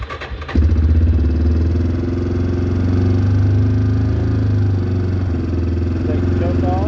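A 2009 Yamaha Big Bear 400 ATV with a replacement carburetor cranks briefly and then fires up on choke, settling into a loud, steady close-up idle that holds for several seconds.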